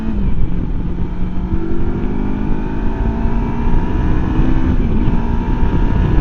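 A MUTT Stravaig 401 motorcycle pulls away and climbs through closely spaced gears, its engine note rising steadily under heavy wind rush at the microphone throughout.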